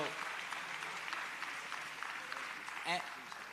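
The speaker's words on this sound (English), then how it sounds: "Gives the elected officials a round of applause, everybody." A crowd at a political rally in New Orleans claps steadily throughout, with a dense, even patter of applause, moderately loud and unbroken.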